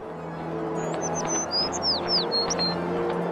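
A small bird gives a run of quick high chirps and tweets, close and distinct, over a low steady background hum.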